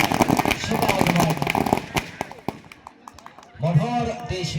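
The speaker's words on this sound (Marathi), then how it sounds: "फटाक्याच्या आवाजानं या ठिकाणी साहेबांचं शुभ आगमन" Firecrackers burst to welcome an arriving guest at a village kabaddi semi-final, a rapid string of sharp cracks and pops over a crowd, then a short lull before more bangs resume beneath an announcer talking.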